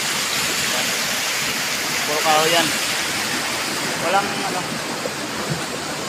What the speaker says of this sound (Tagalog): Ganitong ilog sa amin mga idol.